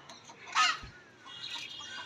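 A chicken gives a brief, faint cluck or two, a single small burst against a quiet outdoor background.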